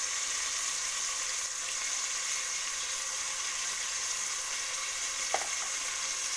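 Tomato with a pinch of turmeric frying in a pan for a Karnataka-style kadale (chickpea) gravy, a steady close sizzle throughout with a small clink near the end and no talking.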